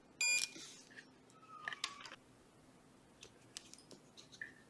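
A multimeter in diode test mode on a Nintendo 64 power supply gives one short, clear beep, followed by faint probe clicks and scrapes and a couple of brief chirps, close and quiet with no talk.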